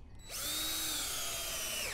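A power drill whirs up as its trigger is pulled in a tinkering workshop, a quick spin-up to a steady high whine held for over a second, close and alone.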